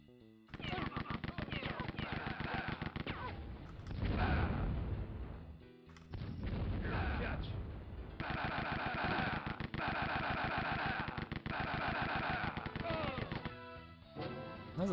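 Fire bomb in the retro shooter Rise of the Triad, amid loud rapid gunfire and a roaring burst of flame, with a steady game music loop and engine-like drone continuing throughout.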